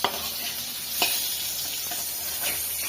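Fish fries in hot oil with a dense, continuous sizzling hiss, close and loud, broken by a couple of brief crackling bursts.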